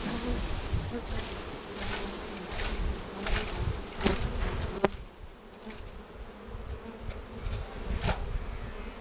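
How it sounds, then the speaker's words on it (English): A dense swarm of bees being shaken from comb buzzes loudly and continuously nearby, the drone swelling and falling with a few sharper bumps and knocks. "go ahead and shake the bees down in there"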